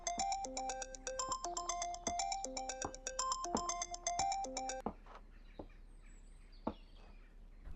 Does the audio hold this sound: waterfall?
no